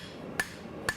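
Two sharp metallic hammer blows strike a chisel during the forging of a bark spud, evenly spaced about half a second apart over quiet workshop background.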